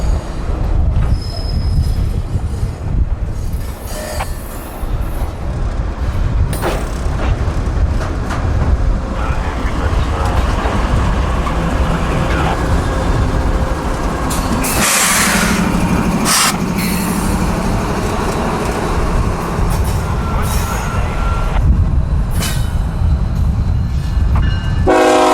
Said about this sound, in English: train now reverses and shoves it all back into the yard